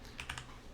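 A computer keyboard is typed on while entering dimensions in AutoCAD: a quick burst of three or four soft, close key clicks over a quiet background.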